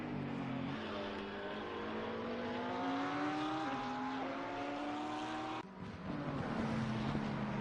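McLaren 720S GT3 Evo race car in a racing video game, engine note climbing steadily through gear changes with a brief lift, loud and continuous, no talk.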